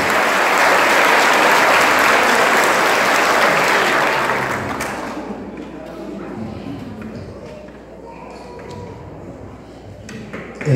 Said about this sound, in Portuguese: Pode bater mais palmas para eles, né?